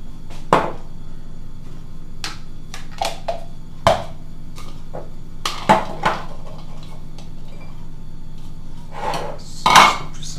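Tomato sauce ingredients crushed in a kitchen, a series of sharp irregular knocks and clatters of utensil on hard cookware, spaced a second or two apart over a quiet hum.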